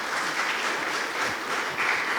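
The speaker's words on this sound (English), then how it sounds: "Now that deserves a clap." A literary festival audience claps in a dense, even burst of applause lasting a couple of seconds, steady and fairly close, with no talking over it.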